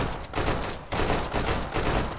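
Rapid bursts of gunfire crackle in a Deadside firefight, shots coming in quick clusters with short gaps, loud and close, and no talk over them.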